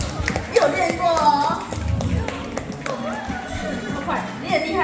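People clap at a baby gender reveal party, a scattered round of claps and taps mixed with lively talk and children's voices close by.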